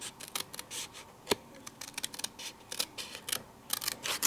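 Scissors snipping paper around stamped cactus shapes in a papercraft die and stamp session, a close series of short, crisp cuts in an irregular rhythm, quiet and alone without talk.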